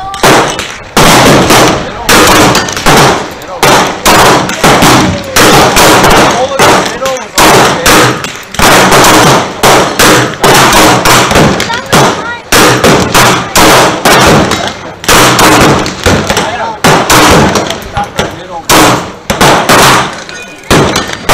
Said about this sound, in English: Here's that 1911 Commander size in 9mm.